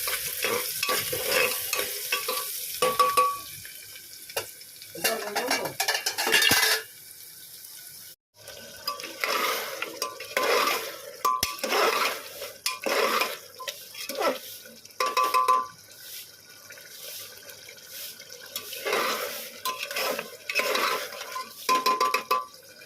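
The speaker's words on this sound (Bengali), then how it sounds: "তেলের ফোড়ন দিয়ে পেঁয়াজটা ভাজছি" Onions frying in oil in a pot, a loud hiss and sizzle with a spoon stirring and scraping in repeated bursts, close up, broken by a brief silence partway through.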